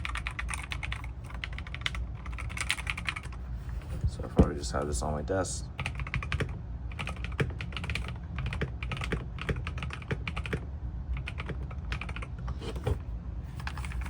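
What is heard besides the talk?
typing on RK Royal Kludge C61 keyboard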